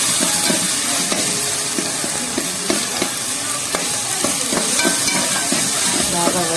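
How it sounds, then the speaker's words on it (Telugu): Ginger paste fries in a pan alongside tomatoes, a loud, steady sizzle with frequent scraping and stirring knocks throughout. "బాగా వేగాలి అల్లం పేస్ట్"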